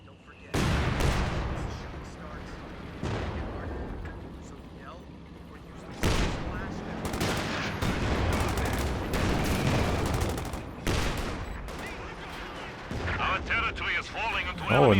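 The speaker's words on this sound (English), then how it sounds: "now that's a mortar for Emperor Li" Mortar and artillery fire in the real-time strategy game Company of Heroes 2 during a 2v2 match: repeated loud booming blasts and bursts of gunfire, dense and continuous, with a commentator talking over the action.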